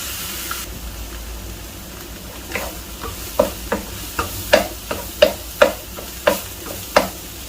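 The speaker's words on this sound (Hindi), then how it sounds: "आलू को मैंने उबाल के और मोटा मोटा कूट लिया है। अभी इसको 2 से 3 मिनट तक मैं पकाऊंगा।" Boiled, coarsely crushed potatoes for samosa filling cooking in a pan, heard as a steady sizzle with a regular series of sharp scraping stirs from about the three-second mark onward, close and alone with no talking.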